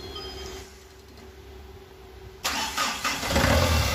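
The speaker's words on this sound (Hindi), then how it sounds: "गड्डी स्टार्ट हो गई है" A Mahindra Getaway diesel engine, just overhauled, is cranked with the starter and fires up around the midpoint. It jumps to a loud, rough idle with a couple of revs, close to the mic, with no talking.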